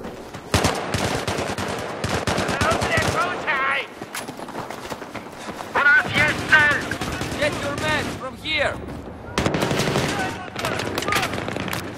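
Rapid bursts of gunfire crackle through busy game action, with a voice talking over the shots and brief pauses between volleys.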